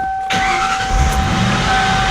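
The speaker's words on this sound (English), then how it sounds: "you can hear it kind of grinding. If I let off the clutch, it goes away" The gearbox of a flood-damaged 11K-mile Mustang Cobra grinds with the clutch engaged. A close, loud engine rumble starts abruptly, and a steady high mechanical whine sits over it throughout, with no talking.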